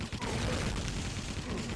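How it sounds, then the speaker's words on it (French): Gunfire from a shooter video game crackles behind the player, a dense, steady wash of shots with no clear single reports, carried under a continuous layer of game noise. "J'entends des bruits de coups de feu derrière moi."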